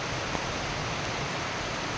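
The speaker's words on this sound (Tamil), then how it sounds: "நல்லா நீர் ஓடை கிளம்பிருச்சு" A rain-fed water stream flowing strongly after a downpour, heard as a steady, dense rushing wash of water that fills the whole clip with no voices.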